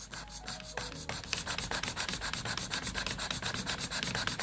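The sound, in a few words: metal hand file filing a flat surface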